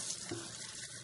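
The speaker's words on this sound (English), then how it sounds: "I use a little sprayer to clean the inside out" A small water sprayer rinses the screen and the inside of a wheatgrass juicer. A steady close hiss of spraying water runs through the whole short moment.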